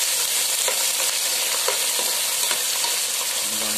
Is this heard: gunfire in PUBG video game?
no